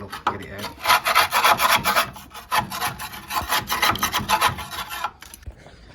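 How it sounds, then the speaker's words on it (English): A metal tool scrapes debris out of an Ideal Icos boiler in a run of rapid, rasping strokes that are close and fairly loud, then stops near the end. "So, I'll scrape out. Get in there. Scrape it all up."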